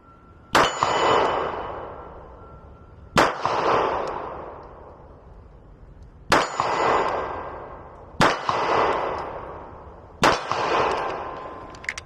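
Five Taran Tactical JW4 Pit Viper pistol shots ring out at a steady pace, each sharp report followed by a bright metallic clang from the steel target that rings and fades before the next.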